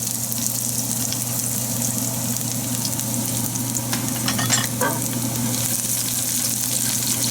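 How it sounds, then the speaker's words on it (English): Garlic and ginger frying in hot oil, a steady close sizzle with crackling that runs continuously, briefly joined by a soft stirring scrape midway. "Fry it just for a second because the oil is hot, so you don't want to burn it."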